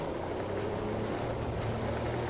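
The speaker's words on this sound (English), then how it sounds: "Gravel sound." Steady, continuous rumbling road noise of a car rolling over loose gravel in the racing video game Assetto Corsa Evo, with a low engine drone underneath, uniform in loudness throughout.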